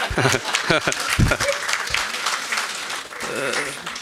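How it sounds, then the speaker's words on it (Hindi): An audience at an institutional leadership event claps and applauds steadily, mixed with voices talking and a few chuckles. "तालियां तो बजाना है"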